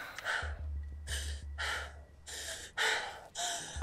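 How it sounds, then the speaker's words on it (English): Heavy, forceful breathing exercise: about six loud, rapid gasping breaths in quick succession, close to the listener, each a sharp rush of air with short pauses between. "I'm going to do that breathing thing that you do then"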